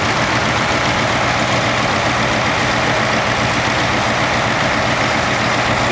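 An International 966 tractor engine idles loudly and steadily at a Red Power Round Up show, a dense continuous rumble with no talk.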